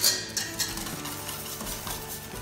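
Cantucci dough mixture with orange zest being stirred in a bowl, giving soft scraping and clinking strokes at close range with no talking.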